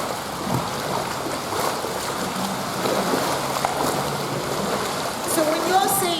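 Hands with fingers spread dragging through pool water during an aqua exercise, giving a continuous churning swish and splash that swells slightly with each pass.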